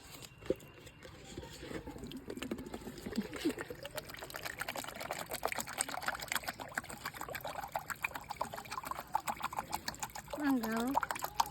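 Water trickles steadily as it is poured into a glass, a soft, close pour that runs on while voices talk over it.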